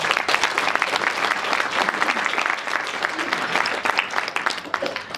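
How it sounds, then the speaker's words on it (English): Conference attendees give a loud, sustained round of applause, dense clapping from many hands filling the room without a break. "So let's give a round of applause for all of you being here today."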